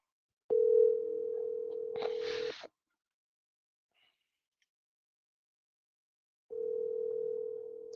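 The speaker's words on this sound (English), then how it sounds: "Come on, Gregory, answer the phone." Ringback tone on an outgoing phone call: a steady electronic ring lasts about two seconds with a brief noisy blip near its end, then silence, then the next ring starts, clear and close, with no talking.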